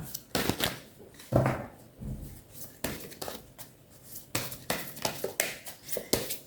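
Tarot cards handled at close range: a series of quick riffling shuffles and soft slaps and taps as cards are gathered and drawn, coming in irregular bursts with short pauses between them.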